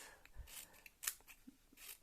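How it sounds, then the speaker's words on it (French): Scissors snip fringes into a paper bookmark, a few quiet, short cuts spread across the moment with soft rustling between them. "L'intérêt d'avoir des ciseaux qui coupent vraiment jusqu'au bout."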